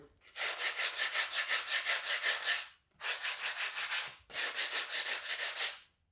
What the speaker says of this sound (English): I'm just going to sand the top edge a little bit, and it's going to break the edges a little bit.